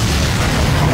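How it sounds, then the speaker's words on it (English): A bomb explodes in the World War II shooter Arma 3 Iron Front as a single very loud, close blast with a deep rumbling boom that fills this brief moment. "A bomb just landed."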